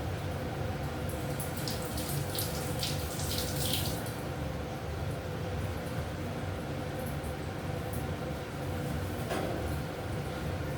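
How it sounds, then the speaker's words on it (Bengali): Tap water runs continuously into a kitchen sink while hands are washed, a steady, close splashing stream with brief changes as the hands move under it. "হাতটা ধুয়ে নিই বন্ধুরা।"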